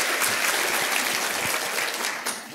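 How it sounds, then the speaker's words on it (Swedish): Steady, dense applause from an audience at Socialistiskt Forum 2022, a political forum, with sustained clapping throughout that eases slightly toward the end. "Så vi gör en applåd för Socialistiskt Forum."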